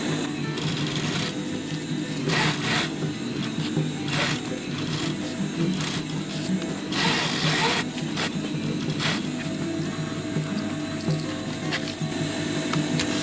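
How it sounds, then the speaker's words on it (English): A sewing machine stitches fabric for a homemade fanny pack, running in several bursts of rapid mechanical chattering with short pauses between, close and fairly loud, without talking. "try to sew over the second stitch"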